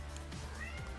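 A cat meows nearby in a short, clear call heard alone over a steady low hum, with no talk.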